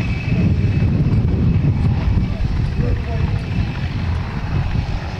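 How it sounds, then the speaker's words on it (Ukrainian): Helicopters fly displays at an open Ukrainian helicopter sport championship, a loud, steady engine and rotor drone with talk running over it. "Пілоти гвинтокрилів показують у повітрі справжні дива."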